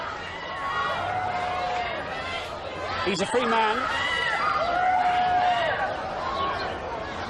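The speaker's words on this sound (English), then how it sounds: "The crowd surge on the street to watch the car leave." A large crowd surges along a street outside the courthouse as Michael Jackson's car leaves after his 2005 acquittal, with steady loud chatter and hubbub and brief shouts, while someone speaks over the noise.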